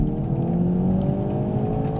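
Hyundai i30N turbocharged engine pulling hard in first gear, a loud, steady rising drone with layered engine harmonics climbing smoothly throughout, heard from inside the car with no talk.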